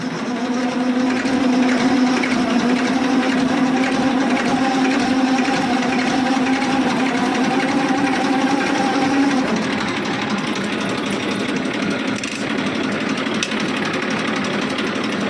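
A steady mechanical whirring with a low rattling hum from a damaged tractor clutch plate housing runs continuously, loud and close, easing slightly toward the end.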